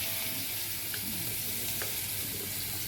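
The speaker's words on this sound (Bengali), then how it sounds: "মশলা পুড়তে দেবো না বলেই ডাঁটাগুলো ছেড়ে দিচ্ছি।" Vegetable stalks frying in oil with dried red chili and whole cumin, a constant close hiss of sizzling with a few soft stirring knocks.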